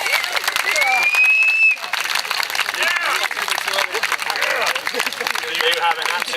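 A crowd at a gymnastics demonstration claps and cheers for the gymnasts, loud sustained applause with a whistle early on, while a voice carries over the noise.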